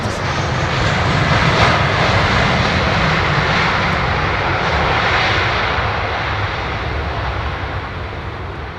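A jet airliner with CFM engines is pushed back from the gate at London Heathrow Airport, its engine roar loud, steady and broadband throughout with no voices over it.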